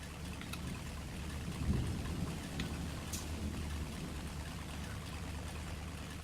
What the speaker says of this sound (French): Ah ça y est, ça pleut là quand même.